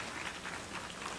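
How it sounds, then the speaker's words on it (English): Brief, moderate applause from an audience for a poet performing a poem about a woman breadwinner, an even, continuous patter of clapping with no voices over it. "Round of applause"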